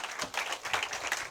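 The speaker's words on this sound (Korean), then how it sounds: "하나님께 영광의 박수 다시 한번 올립니다" Church congregation clapping during a Sunday morning worship service, a brief steady burst of many hands applauding together at moderate volume.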